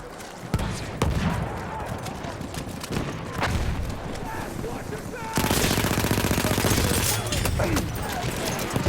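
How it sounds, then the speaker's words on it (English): Machine gun fired from the hip in Battlefield 1 multiplayer conquest on the Fao Fortress map, a rapid sustained burst that grows louder and denser partway through, under battlefield noise and a speaking voice. "with this gun, pretty much I just stay in hip fire mode and just unleash all 25 rounds at once"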